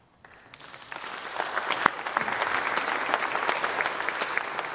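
Audience at a candidate forum breaking into applause, starting quietly and building into steady, fairly close clapping with sharp individual claps standing out.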